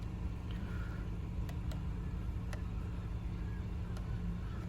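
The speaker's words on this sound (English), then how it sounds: "straight away you can hear the engine speed or engine tone change" A steady low engine rumble hums from inside a 2022 Porsche Macan T 2.0 in sport mode, constant and moderately loud, with a few faint clicks above it.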